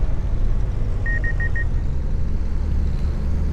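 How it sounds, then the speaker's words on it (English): A farm grain cart signals as its unloading pipe swings over a trailer, four short evenly spaced electronic beeps rising over a constant loud tractor engine rumble. "That beeping lets me know when the pipe is over the trailer and it's gonna start dumping."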